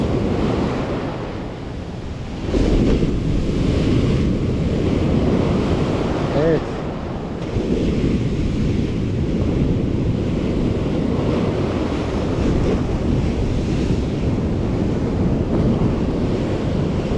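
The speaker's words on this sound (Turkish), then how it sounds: "her şey çok zor şu an. Dalga, akıntı" Sea waves surge and break on the Karasu shore amid a strong current, a loud, continuous roar of surf mixed with wind buffeting the microphone, with no speech.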